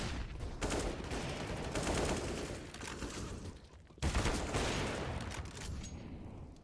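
Sustained gunfire in a competitive Counter-Strike match on the Inferno map, dense overlapping bursts filling the whole stretch with a sharp fresh volley partway through, loud and close with no talk over it.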